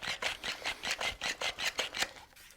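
The rough top slide of an Adventure Force Brute Pro dart blaster being worked back and forth, scraping against its paint: a fast, even series of about ten gritty rasping strokes, close up and fairly quiet.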